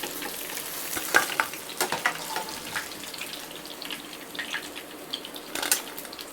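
Koduva fish frying for fish manchurian gives a soft, continuous sizzle with scattered crackles, pops and stirring scrapes, moderately close and heard alone without talk.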